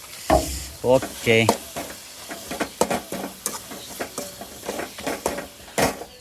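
Garam masala being stirred in a hot cooking pan, with sizzling and repeated scraping strokes heard close up. A voice speaks briefly at the start, and the stirring continues in uneven bursts.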